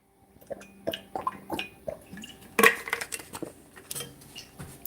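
Water is poured into a glass and sipped at a desk, with close clinks, drips and small splashes in an irregular string of sounds, one louder clatter in the middle, and no talking.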